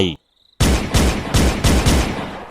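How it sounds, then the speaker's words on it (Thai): A brief high tone, then a rapid burst of loud gunshots in quick succession, sharp repeated cracks close by. "เสียงปืนพกของสุกฤตที่ถูกยกขึ้นมาจากเอว ก่อนจะกระหน่ำยิงไปที่สมิงเจ้าป่า"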